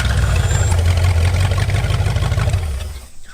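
Old muscle car V8 fires up after 35 years sitting, catching right away into a loud, steady, rumbling idle that fades at the end.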